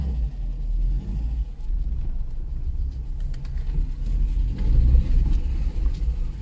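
A car with a damaged engine runs, producing a loud, continuous low rumble with small surges in intensity from start to end, with no talking.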